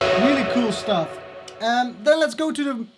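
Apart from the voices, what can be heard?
None of the usual background noises is heard.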